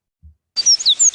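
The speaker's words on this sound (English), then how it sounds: "So we are going to be listening to a bird call." A short burst of bright, high chirps and tweets from a bird, quick and close, following a brief low thump.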